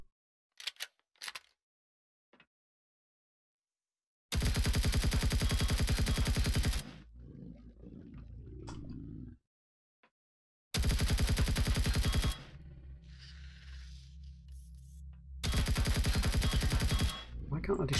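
Turret in the Empyrion game firing in three long loud bursts of rapid shots, separated by silences and low rumbling echoes.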